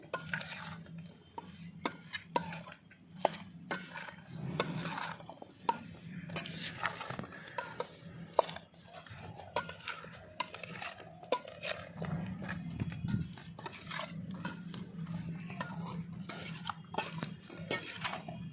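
Oil being mixed into a homemade jackfruit pickle, with repeated close scraping and clacking of a spoon through the thick mixture in an uneven, continuous rhythm, no voices.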